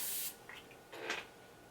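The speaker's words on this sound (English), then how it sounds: "This mister is literally incredible." A setting spray mister fires a short, fine airy burst of spray, close and fairly loud at first, followed by a couple of softer brief hisses, with no talking.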